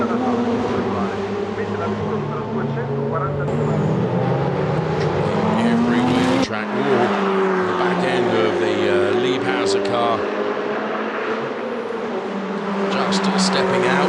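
Ferrari Challenge race cars at Monza, engines roaring loud and continuous with rising and falling pitch as the cars accelerate and shift, while a commentator talks over the racing noise.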